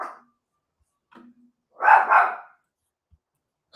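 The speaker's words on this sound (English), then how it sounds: "There goes the dog." A dog lets out a short double bark in the background of an otherwise quiet room, preceded and followed by faint, brief household sounds.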